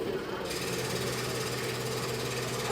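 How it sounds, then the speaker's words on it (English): A scroll saw running, a continuous fast reciprocating buzz with steady rattling chatter, close and even in level throughout. "the reciprocating motion of the saw pushes air through here"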